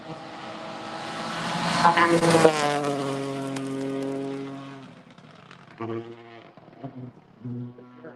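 Rally car on a forest gravel stage, engine note rising as it approaches, loud and sweeping through high revs, then fading with gear changes and throttle bursts further off.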